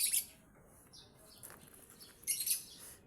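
Birds chirping outdoors at a rural home, short high tweets at the start and again near the end over a quiet background, fairly close and sparse.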